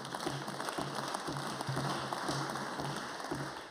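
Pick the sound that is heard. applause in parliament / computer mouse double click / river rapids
applause in parliament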